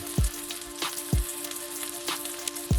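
Thick ribeye steak searing in a hot oiled pan, a steady quiet sizzle broken by several sharp popping spatters at irregular intervals, close and without talk.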